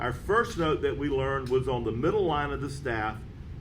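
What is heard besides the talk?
No distinct noise like a dog, phone or traffic.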